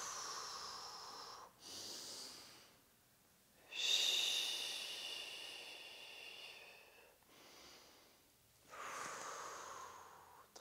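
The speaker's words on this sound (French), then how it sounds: "Voilà, on inspire et on expire." Slow, deep breaths during a Pilates session with a ball: long airy inhales and exhales alternate in a steady rhythm, close and soft, with no talking.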